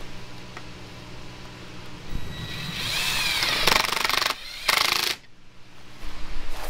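A power drill drives screws into the door of a Harbor Freight greenhouse, with several short bursts of loud whirring separated by brief pauses, close by and with no talking.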